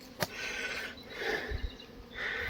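Honey bees hum around a nuc hive in an outdoor apiary, a soft, steady buzzing at close range with a brief louder pass.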